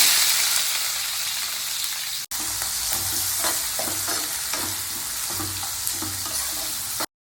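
Onions and fenugreek fry in hot oil for a chicken curry, a loud continuous sizzle with a spatula scraping and stirring in irregular strokes, briefly cut by two short dropouts.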